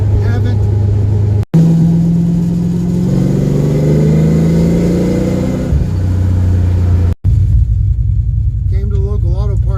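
A car engine with a loud, rumbling exhaust drones close and steady, rising and falling in pitch as it revs, cut by two brief dropouts, with a voice talking underneath.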